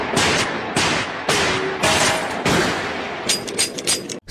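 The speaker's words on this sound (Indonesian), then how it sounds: "Sakura pun terus-menerus menembak ke arah orang tersebut hingga pelurunya habis" Repeated pistol gunshots in a film, a rapid series of loud, close cracks fired one after another until the gun runs empty, with a few quicker shots at the end.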